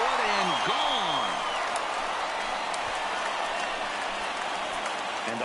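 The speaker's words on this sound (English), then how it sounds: "the home crowd has really come to life here in the bottom of the 8th" A home crowd in the MLB 19 baseball video game roars and applauds steadily through the bottom of the 8th inning, a dense loud wash of noise, with a brief voice heard at the start.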